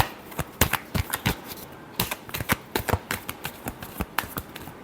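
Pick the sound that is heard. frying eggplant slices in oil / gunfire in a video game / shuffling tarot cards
shuffling tarot cards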